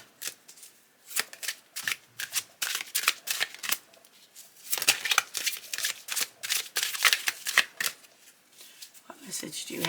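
Cards from a Talisman Oracle deck riffle and shuffle in repeated close, crisp bursts of papery flutter and snaps, with short pauses between runs and a voice talking now and then.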